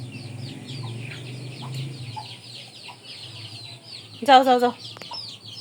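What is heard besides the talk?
chickens clucking in the house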